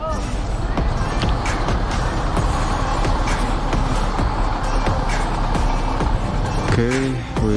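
Heavy road traffic with trucks roars past a touring motorcycle on a road in Indonesia. The loud, continuous rumble and whoosh never lets up, and a voice cuts in near the end.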